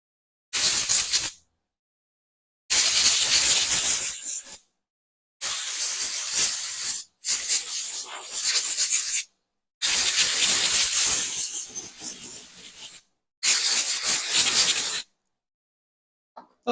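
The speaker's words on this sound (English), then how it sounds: "Just going to blast it with the air compressor real quick." An air compressor nozzle blasts dust out of a dusty PS5 console during an HDMI port repair, sounding as six loud, hissing bursts of air of varying length separated by clean silences.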